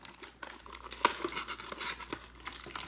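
Tape peeling off toy lightsaber blades inside their packaging, a soft crinkling, tearing rustle close by and quiet, with one sharper snap partway through.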